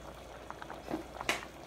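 A pot of keto cheeseburger soup with Velveeta cheese simmers, giving faint, sparse bubbling pops and soft liquid gurgles at a low level.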